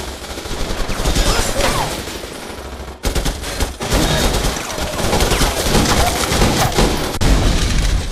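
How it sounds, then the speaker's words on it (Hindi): Rapid bursts of gunfire crackle through chaotic news footage of a gang war at a panchayat in Ayodhya, loud and dense throughout with a brief break partway, no voices standing out. "साठ सेकंड का फायरिंग कांड।"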